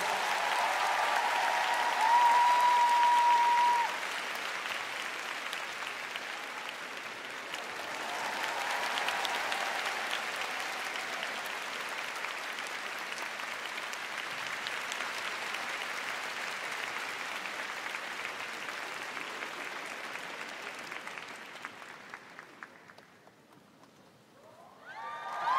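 Audience applause fills an ice rink at the Fantasy on Ice 2023 figure skating show after a singer performs, a steady, dense clapping wash lasting over twenty seconds before fading near the end.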